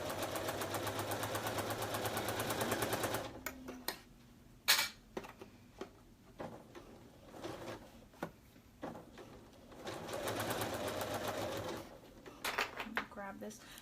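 A sewing machine stitches fabric in quick, steady bursts, its rapid mechanical rattle starting and stopping between pauses, with someone talking quietly in the gaps.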